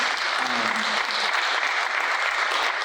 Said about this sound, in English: So y'all give yourselves a round of applause again for being here and supporting us.